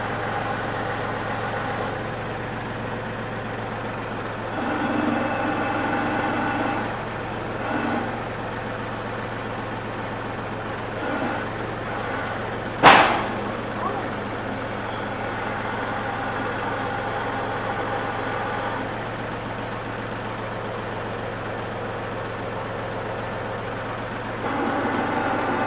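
A tractor engine idles with a low, steady rumble, swelling in a few brief revs and one sharp knock or clank near the middle, heard close with no talking.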